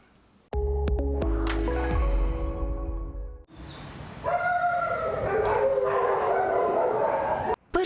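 Dogs at a municipal animal shelter in Vinnytsia barking and howling, loud and close, with sharp yips at first and then long overlapping howls and whimpers.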